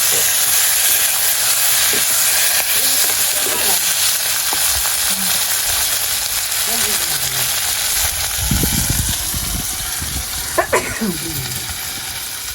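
Onions and spices sizzle and fry steadily in a pan for a Tamil anchovy curry. A constant loud hiss runs throughout, with occasional stirring scrapes and clinks.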